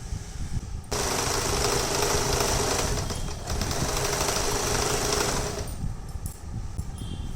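A sewing machine loudly stitches a folded blouse hem in one continuous rapid rattling run of about five seconds, with quieter handling before and after.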